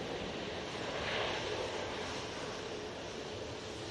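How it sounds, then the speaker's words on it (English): A Malta Air jet taxis out at Manchester Airport, its engines making a steady, fairly distant broadband roar and whine that holds evenly throughout with no talk. "Malta Air now on the taxi out."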